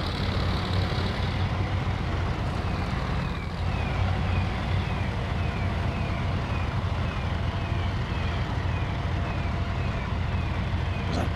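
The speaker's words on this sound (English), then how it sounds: "Keep reversing until you hit something." Truck reversing in the Snowrunner video game, a steady dense engine drone throughout with a faint repeating reverse beeper pattern running over it, no talk.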